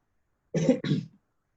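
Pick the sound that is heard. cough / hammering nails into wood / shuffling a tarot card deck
cough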